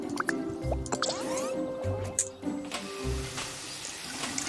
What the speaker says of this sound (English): I can take a shower.